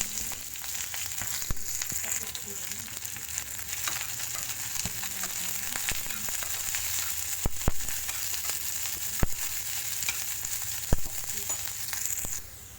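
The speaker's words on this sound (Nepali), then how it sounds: "तेल बसाल्नुहोस् उसमा प्यानमा, अनि प्याजलाई हालिदिनुहोस् तेलमा।" Onions frying in oil in a pan for a Hyderabadi chilli curry, giving a steady broadband sizzle throughout with occasional sharp pops and crackles, fairly close, no talking.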